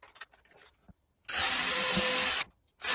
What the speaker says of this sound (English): I'm just going to drill the 6 mil one just straight off with a 6 mil bit